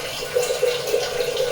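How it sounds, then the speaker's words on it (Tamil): Water poured from close range into a pot of chicken biryani, a steady splashing gurgle lasting about a second and a half with small rising bubbles of sound. "இப்போ ஊற்றுறோம் பாருங்க தண்ணியை."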